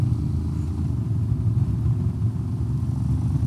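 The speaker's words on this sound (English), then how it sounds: "The sound of the exhaust." Steady low exhaust rumble from a Honda X-ADV scooter riding along a road that climbs a little, loud and continuous throughout with no talking.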